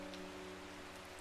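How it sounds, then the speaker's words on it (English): Rain falls as a soft, steady hiss, faint and even throughout, with no voices. "Let's just listen to the rain."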